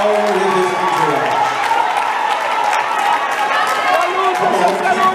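A crowd claps and applauds steadily at a funeral service, with a continuous wash of hand claps and murmuring beneath a voice talking over it throughout.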